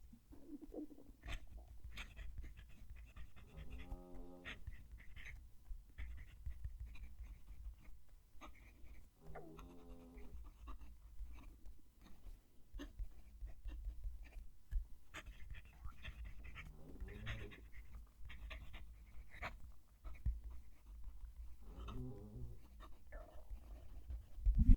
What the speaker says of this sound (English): Going to move the mic down to the page so you can hear the pen write